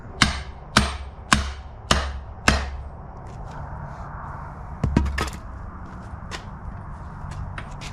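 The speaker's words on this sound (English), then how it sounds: "put the handle inside that, and then used a sledgehammer up top" A sledgehammer strikes the top of a shovel handle to drive it into the shovel head, five sharp loud blows at a steady rhythm, then a few lighter knocks and taps.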